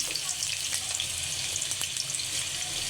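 Potatoes for a mixed vegetable dish frying in hot oil in a pan, producing a dense, continuous hiss with crackling spatters, close and fairly loud, with no voices.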